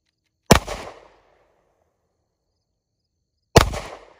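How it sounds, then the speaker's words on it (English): Two loud, sharp rifle reports from a Winchester M1 carbine in .30 caliber, fired at a target about three seconds apart, each a crisp crack with a short decaying echo and silence between them. "Shooting at that top left target."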